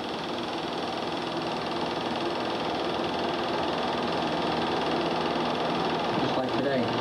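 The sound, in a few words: sand dredge engine working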